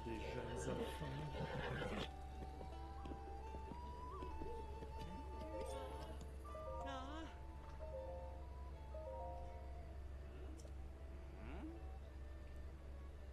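A horse neighs in Breath of the Wild, a faint whinny under game sounds and a steady background hum, with someone talking over it.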